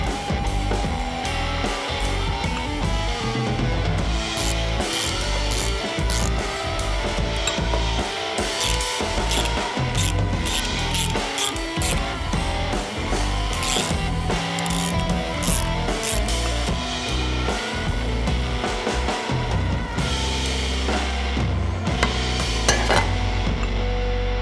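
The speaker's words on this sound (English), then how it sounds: "We're gonna pull the tappet block covers off and the cam cover off using a 3/16 Allen" Metal hand tools working on a Harley-Davidson Milwaukee-Eight engine, an Allen wrench taking off tappet block covers and the cam cover: continuous close clinking, scraping and rattling of metal parts, busy and steady throughout with no talk.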